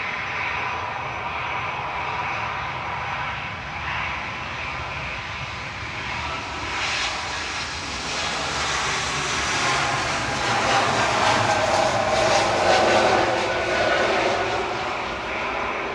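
A Helvetic airliner flying for Swiss spools up its jet engines at Manchester Airport, a broad roar that rises and swells over sixteen seconds, loud and fairly close, with no voices.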